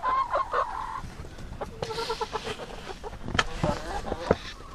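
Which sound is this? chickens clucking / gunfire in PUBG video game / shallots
chickens clucking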